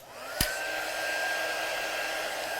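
A hair dryer blows steadily and close after a click switches it on, drying stamped watercolour ink, its constant whooshing whine lasting the whole stretch with no voices.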